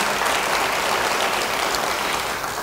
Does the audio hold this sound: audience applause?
yes